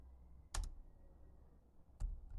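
Typing on a computer keyboard: two short, faint bursts of key clicks about one and a half seconds apart, against a quiet background hum.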